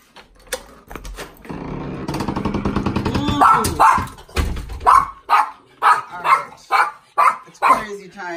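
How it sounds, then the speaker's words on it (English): A dog barks outdoors in a rapid run of loud, close barks that settle into a steady rhythm of about eight sharp woofs, with a person talking briefly underneath. "it's crazy time because there's a dog over there"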